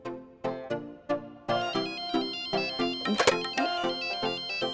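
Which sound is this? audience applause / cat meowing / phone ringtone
phone ringtone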